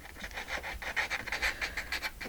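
A dog pants quickly and close by in short, rough, breathy bursts over about two seconds, with faint rubbing noise underneath and no speech.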